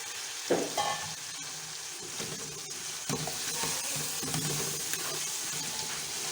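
Potatoes sizzle in a hot pan for vegetable pulao, with steady frying hiss and intermittent scraping stirs and soft clinks close by, and no talking.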